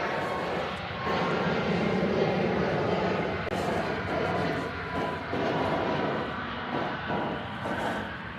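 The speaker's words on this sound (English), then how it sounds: "Our next departure is Southwest Flight 1083." A Southwest Airlines Boeing 737 MAX 8 jet departs Nashville International Airport, its engines a steady, broadband roar that swells and holds at moderate distance for several seconds.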